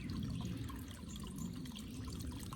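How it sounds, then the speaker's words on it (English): Soft, continuous trickle of a small mountain stream beside the Appalachian Trail, water gurgling and splashing faintly over a low, steady rumble with no voices. "Just filled up at this mountain stream."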